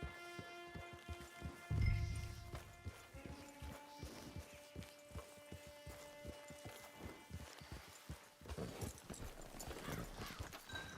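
Horse hooves clip-clop steadily in Red Dead Redemption 2 Online, a walking rhythm of close, distinct hoofbeats with a brief louder thump and some ambient game sound.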